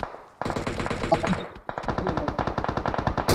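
Automatic gunfire fills a PUBG Mobile match in loud, rapid bursts. A long burst is followed by a short pause and then a second sustained stream of close, rattling shots.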